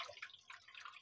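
Water drips and trickles from an opened LG top-load automatic washing machine with a UE error, a faint, close, steady patter of drops with no talk.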